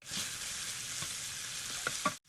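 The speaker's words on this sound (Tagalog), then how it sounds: "So i-fry muna natin itong shrimp natin." Shrimp frying in oil in a pan while cooking pinakbet: a steady, close sizzle with a few light clicks of stirring near the end before it cuts off abruptly.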